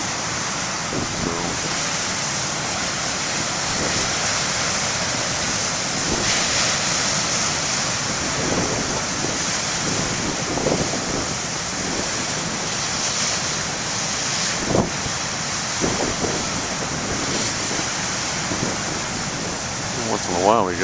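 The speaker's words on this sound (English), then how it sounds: "once in a while we get some nice waves." Steady roar of surf washing onto a shore, broadband and continuous, with faint voices murmuring underneath and some wind buffeting the microphone.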